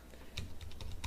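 Quick, light keystrokes on a computer keyboard, several distinct clicks in an uneven rhythm, close and fairly quiet with no talk.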